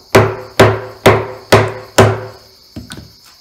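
Sharp mallet blows drive a hand chisel into a timber frame beam to cut a mortise, five evenly spaced loud whacks followed by a few lighter taps, close and ringing slightly with woody resonance.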